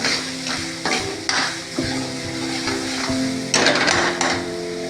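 Masala sizzles in a pan for egg curry while a spoon stirs and scrapes it, the frying a steady hiss close by with intermittent scraping knocks and a louder clatter toward the end; no talking.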